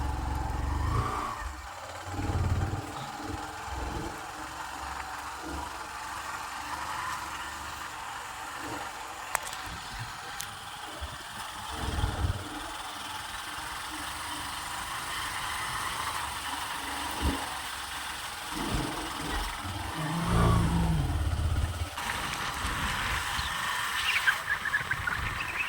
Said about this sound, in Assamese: এনেকুৱা ৰাস্তাত বাইক চলাই চলাই ঘূৰি ফুৰিছোঁ